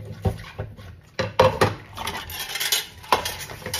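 Dishes and cutlery being washed by hand, with irregular clinks and clatters of plates and utensils, a few sharper knocks standing out over running handling noise.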